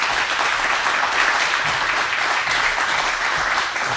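An audience applauds the mayor of Bordeaux at an opening event, with steady dense clapping that stays loud and continuous throughout.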